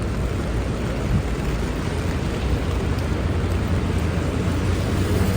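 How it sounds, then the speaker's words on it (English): Heavy rain falls in downtown Chicago near a federal building, a loud, dense, continuous hiss and patter with no pauses and no talk. "But yeah, super rainy day."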